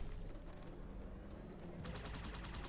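A vehicle-mounted gun fires in Halo 2, starting after a stretch of low rumbling engine noise with a rapid, evenly spaced burst of sharp shots. The burst is close and continues to the end.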